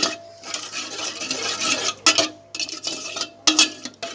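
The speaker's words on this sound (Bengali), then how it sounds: "আস্তে আস্তে জাল করে আমি চিনি আর ছানাটাকে সুন্দরভাবে আমি একটু মিশিয়ে নিচ্ছি।" Chhana and sugar being stirred and mixed in a pan on the stove for rasgulla: close, rough scraping and rubbing of a spoon against the pan in uneven strokes, with short pauses between bursts.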